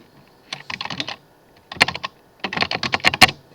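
Typing on a computer keyboard in three quick bursts of rapid, crisp key clicks, close and clear, separated by short pauses, with no voices.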